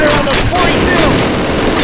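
Dense rifle and machine-gun fire crackles through a Call of Duty battle, a loud continuous fusillade with booms, mixed with soldiers shouting over it.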